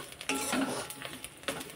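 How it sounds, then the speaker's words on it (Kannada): Red chillies fry in a pan while being stirred, giving a soft sizzle under scraping and clinking of a spoon against the pan in a few quick strokes, close and moderately quiet, with no talking. "ಇನ್ನೊಂದು ಸ್ವಲ್ಪ ಫ್ರೈ ಆಗಲಿದು"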